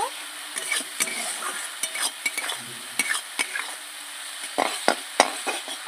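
A spice masala of turmeric and a little sugar for a Bangladeshi kholshe fish curry is sautéed in a pan, with close stirring scrapes and clinks over a soft sizzle, no voices.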